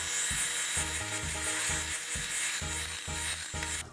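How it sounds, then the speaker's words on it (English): Whisk scraping through sugar and flour in a bowl, quick regular rhythmic strokes, close and continuous, no voices. "In another bowl, whisk together the remaining sugar and flour."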